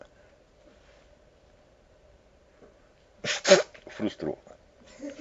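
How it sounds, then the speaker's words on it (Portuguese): A man sneezes during a spoken Brazilian commentary broadcast. After a near-silent stretch comes one sharp, loud sneeze, followed by a few shorter breathy bursts close to the microphone. "Pausa para espirrar."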